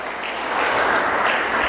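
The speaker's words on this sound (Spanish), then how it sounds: "alguien da palmas al Dios de gloria" A church congregation claps together in a dense, continuous burst of applause, close and loud, with no voices heard over it.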